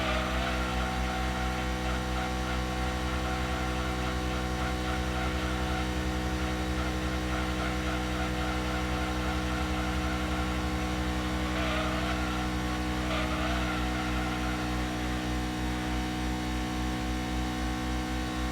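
A racing car's engine in Gran Turismo 2 on the PS1 holds a steady, high-pitched drone at roughly 270 km/h, unbroken and loud throughout, with no talking over it.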